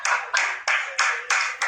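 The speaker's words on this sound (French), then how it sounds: "Bravo, on applaudit" Six distinct, evenly spaced claps in a slow steady rhythm follow an a cappella song, close and crisp with quiet gaps between them and no talking.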